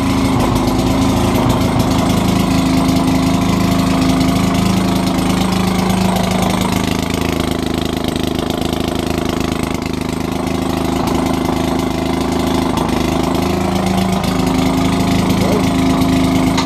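Gas-powered Maytag 72 washing machine engine, running on Coleman fuel, chugs steadily and loudly up close, a continuous rough small-engine drone that never lets up.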